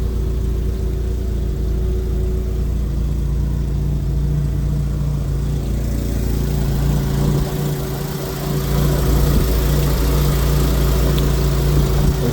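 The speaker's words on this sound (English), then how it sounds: "I run the engine for 10 to 15 minutes to flush out the salt water from the heat" A Scarab RX boat engine runs steadily to flush salt water from its heat exchangers and exhaust, a loud continuous low drone with a mid-range rumble that grows a little louder after about eight seconds.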